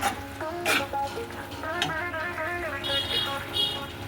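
Jaggery melting and simmering in a pot for a Diwali semiya kesari sweet, with a soft steady bubbling under clinks and scrapes of a spoon stirring against the metal pan, close and fairly quiet.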